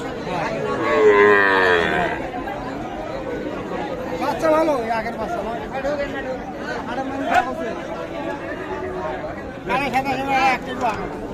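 Cattle low loudly in a long moo, with more bellowing scattered through a crowded cattle market selling young bulls and heifer calves, where many people chatter nearby.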